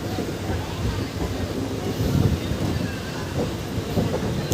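An AP Sampark passenger train runs along the short Sitafalmandi–Lalaguda chord line near Secunderabad, giving a steady, close rolling rumble with soft wheel clatter that stays even throughout.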